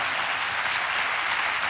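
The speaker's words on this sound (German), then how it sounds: "Ich lasse erst mal die Leute ordentlich klatschen." A television studio audience at the satirical show Extra 3 applauds guest Wolfgang Trepper, a thick, even wash of clapping that stays loud throughout.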